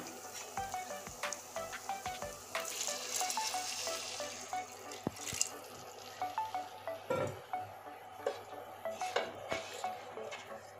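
Water from a thermos pours into a cooking pan of fried spices and oil, with a burst of hissing sizzle among clinks and scrapes of utensils against the pan.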